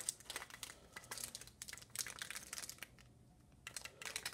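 Cellophane packaging crinkled in short, close bursts of crisp crackling separated by brief pauses, quiet and with no voices.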